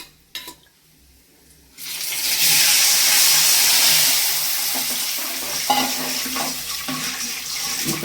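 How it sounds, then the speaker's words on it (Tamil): Tamarind water with salt and turmeric is poured into a hot pan for puliyodarai, setting off a loud, steady sizzling hiss after a quiet start, close up and with no talk. "உப்பு மஞ்சத்தூள்லாம் போட்டு இந்த புளி தண்ணியை இதில் ஊற்றிக்கலாங்கம்மா."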